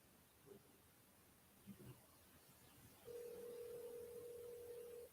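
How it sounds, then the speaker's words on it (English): A phone call rings out unanswered as a steady, moderately loud electronic tone that starts partway through and holds continuously, after a few faint knocks in a quiet room. "It doesn't look like he's gonna be picking up the phone right now."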